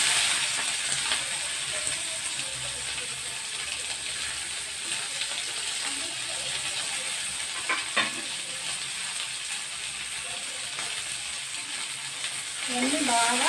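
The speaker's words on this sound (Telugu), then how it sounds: "ఇవన్నీ బాగా ఫ్రై చేసుకోవాలి." Vegetables frying in a hot pan with mustard seeds, urad dal and chana dal, a steady close sizzle throughout with occasional stirring scrapes and clinks, no talking.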